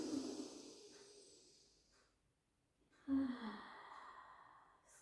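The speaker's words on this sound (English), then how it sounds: "And take a breath in." A slow inhale and exhale during a pilates stretch, soft close-up breathing with a sigh-like release, the breath fading into near silence before another audible breath.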